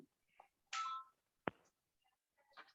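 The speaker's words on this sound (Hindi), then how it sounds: "एक फोन आ रहा है" Short electronic telephone tones sound in separate bursts, a few beeps with pauses between them, moderately loud in an otherwise quiet room.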